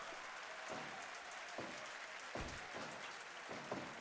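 A wrestling crowd applauds steadily, a dense wash of clapping at moderate volume that carries on without pause and with no voices over it.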